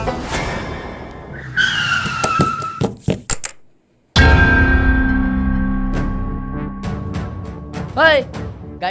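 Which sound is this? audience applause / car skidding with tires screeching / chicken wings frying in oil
car skidding with tires screeching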